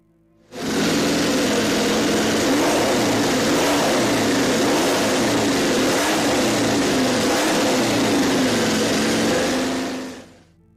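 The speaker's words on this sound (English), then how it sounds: "its sound was truly American, very similar to the sound of a V8" A one-off MotoGP superbike engine with a deep, V8-like note revs loud and close, swelling in sharply and holding a steady, throaty roar for about ten seconds before cutting off abruptly, with no voices over it.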